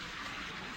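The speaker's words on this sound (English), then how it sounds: "He's having a shower." A shower runs steadily in a home bathroom, a brief, even hiss of falling water at moderate distance with no voices.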